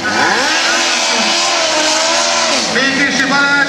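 A Suzuki GSX 750 racing motorcycle doing a burnout: a loud, sustained high-revving engine whine that rises and dips, with a rough squealing edge throughout and a voice talking over it.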